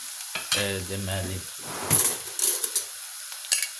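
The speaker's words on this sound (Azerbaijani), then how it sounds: "gördüyünüz kimi soğanımız bax belə bir ədcə qovruldu" Onions sizzle steadily in a pan as they are stirred for Chinese-style spaghetti, with scraping and clinking utensil sounds and a few sharper crackles, after a brief spoken word at the start.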